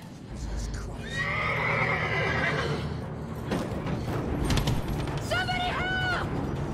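A horse whinnies loudly on the back of a ferry in the film The Ring (2002), then neighs again in two shrill bursts, with hooves clattering and people shouting in the background.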